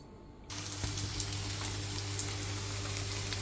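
Continuous crackling sizzle of crumbed chicken schnitzels frying in a pan, starting abruptly and holding steady with a low hum beneath.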